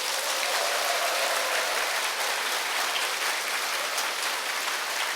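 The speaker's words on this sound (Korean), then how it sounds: "큰 박수 한번 보내드리겠습니다" Large lecture audience gives a big round of applause for a company leader, a dense, even wash of clapping like heavy rain that holds steady throughout, with no talking.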